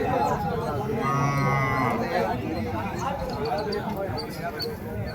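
Native cart bulls at the open cattle market in Uthangarai, one lowing in a long moo amid busy crowd chatter, with people talking over the noise.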